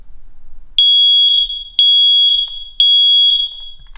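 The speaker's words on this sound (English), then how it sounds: "test your smoke alarms every month by pressing the test button until the alarm beeps" A smoke alarm being tested sounds three loud, piercing electronic beeps, evenly spaced about a second apart, each holding briefly, with quiet between.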